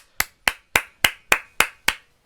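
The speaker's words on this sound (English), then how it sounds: "give a round of applause" Seven sharp, evenly spaced claps from a single pair of hands, close up and crisp, with quiet gaps between them.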